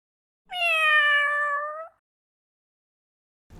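A cat gives a single clear, drawn-out meow, close and loud, in an otherwise quiet kitchen where Japanese tempura rice balls are being made.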